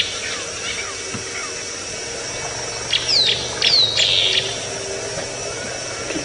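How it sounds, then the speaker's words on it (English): Tropical boubou birds call at dawn on an African safari drive, a few clear whistled notes rising briefly out of a steady outdoor background hum, moderately distant, with no talking during the calls. "Should be able to hear the tropical bobos."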